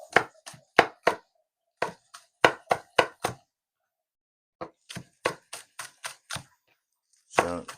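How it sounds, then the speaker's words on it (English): Salad ingredients being chopped on a board, sharp knife strikes close up in quick irregular clusters with short pauses between, ending in a brief rattling flurry. "So now let's chop."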